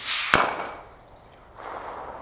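Mauser 25 straight-pull hunting rifle chambered in .308 fires a single loud, sharp crack outdoors, followed by a fading echo and then quiet rustling.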